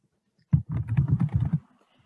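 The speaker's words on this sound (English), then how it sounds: "So I'm just going to type in my dad's name." Someone types a name on a computer keyboard: a quick, dense burst of soft key clicks lasting about a second, close and quiet in an otherwise silent room.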